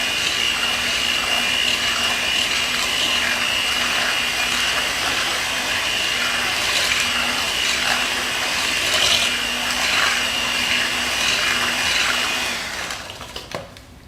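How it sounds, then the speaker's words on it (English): An electric mixer whirs loudly and steadily while blending cornbread muffin batter, a constant close motor drone with slight wavering that cuts off near the end, with no talking. "We're going to mix this up before we put the milk in it."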